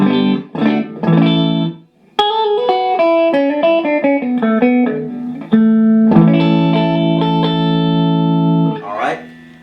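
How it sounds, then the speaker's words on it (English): Distorted Agile AL2000 electric guitar plays a run of sustained, gritty notes and chords, with short pauses between phrases and a held chord near the end. "now let's try some distortion"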